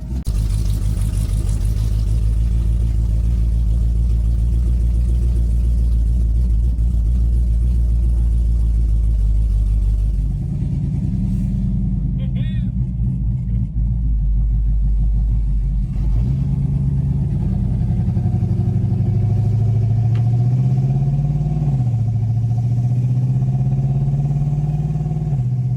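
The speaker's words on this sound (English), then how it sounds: "It's not even like unbearably loud with the exhaust setup how it is right now." A 2014 Jeep Grand Cherokee engine running with an aftermarket exhaust setup, a loud, steady low rumble that swells with a few revs partway through, no talking over it.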